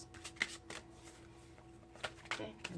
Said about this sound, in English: Okay, I'm going to stop the shuffle.